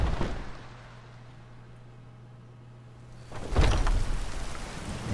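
Steady rain pours in the video game Skyrim as a broad hiss over a low hum, then swells louder and heavier near the end.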